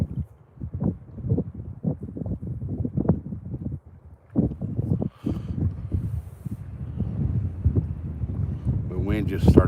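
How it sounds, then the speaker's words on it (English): Wind blows at a lake, buffeting the microphone in low, gusty rumbles that rise and fall without letup for most of the stretch. "The wind just started blowing straight at me"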